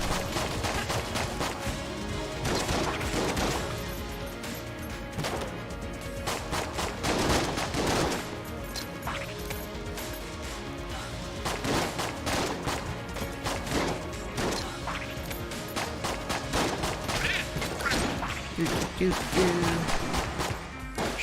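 Rapid, dense gunfire from shooting enemies in a video game, with repeated bursts and single shots over about twenty seconds, continuous and loud.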